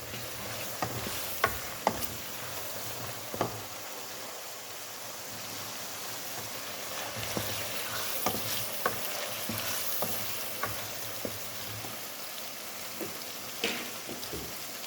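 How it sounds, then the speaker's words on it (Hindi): Chicken cooks in a spice paste for a chicken and beans dish, giving a steady, fairly quiet sizzle with a few sharp spatula taps and scrapes scattered through, with no voices. "चिकन को इस पेस्ट में कुक करेंगे"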